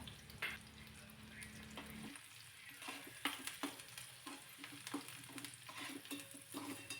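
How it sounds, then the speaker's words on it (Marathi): Finely chopped onion frying in a spoonful of oil in a pan, with a soft continuous sizzle and repeated scraping stirs of a spatula. It is fairly quiet and close, with no talking. "कांदा चांगला लालसर होईपर्यंत परतून घ्यायचा आहे"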